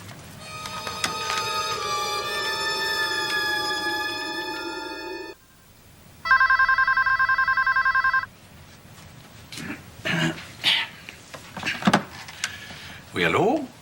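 An old-style telephone bell rings in a long rattling burst, then a second shorter electronic ring, followed by clatter of handling the receiver and someone speaking briefly, in a quiet room in a French drama.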